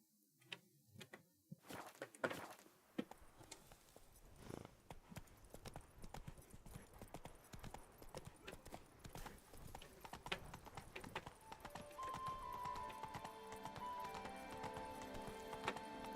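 Roach, a horse in The Witcher 3: Wild Hunt – Blood and Wine, clip-clops along at a steady gait for a long stretch, hoofbeats moderately close over faint game ambience and a brief whinny-like tone.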